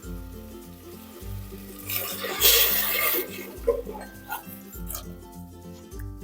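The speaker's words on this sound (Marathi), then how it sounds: "आता मी हे पाणी 4 ग्लास यामध्ये सोडलेलं आहे." Water is poured in a short rushing burst into a cooking pot of fresh pigeon pea grains and salt for sole rice, over a looping background melody.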